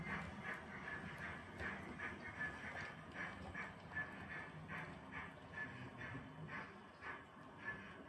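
The 06:31 Manchester Central to Sheffield passenger train via the Hope Valley draws into Stockport Tiviot Dale station, a steady distant rumble with rhythmic clicks of wheels over rail joints, no voices.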